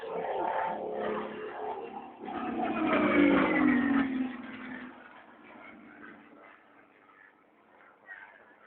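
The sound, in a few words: Rolls-Royce aircraft engine of a Battle of Britain Memorial Flight plane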